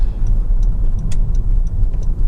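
A Honda Civic 2.2 i-DTEC diesel is driven, its engine a low, steady drone under road rumble inside the cabin, with faint regular ticking sounds over it.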